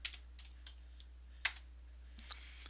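Someone types on a computer keyboard in a quiet room, producing sparse, soft key clicks at an irregular pace with one slightly louder tap, over a low steady hum.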